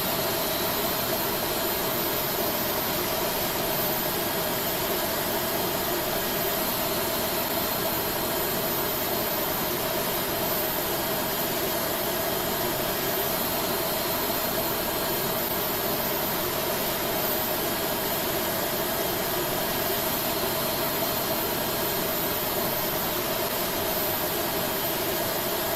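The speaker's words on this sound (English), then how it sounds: "Engaging start. Engine 2. Start valve open." An Airbus jet engine spools up in a flight simulator, a steady, faint broadband whine and rush holding evenly for the full stretch with no speech.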